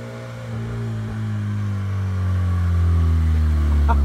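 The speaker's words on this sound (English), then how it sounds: "Dude, that thing is so loud. That thing needs an exhaust, like, ASAP." A loud beater car engine with no exhaust revs steadily, its raw roar building slightly over a few seconds up close.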